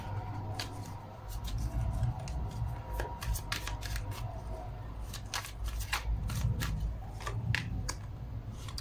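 Tarot cards shuffled repeatedly, a quick run of crisp riffling snaps and slaps over steady low room hum, close and moderately loud, with no talk.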